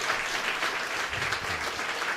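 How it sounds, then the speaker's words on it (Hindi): Church congregation applauding for the Lord's glory at a Christmas candlelight service, loud, dense clapping from many hands filling the room, sustained and even from start to finish. "जोरदार ताली बजाएं प्रभु की महिमा के लिए।"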